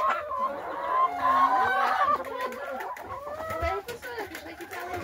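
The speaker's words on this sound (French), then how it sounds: "ça fait du bruit les poules" Hens cluck and squawk in a henhouse, a busy overlapping chorus of harsh calls up close with people talking underneath.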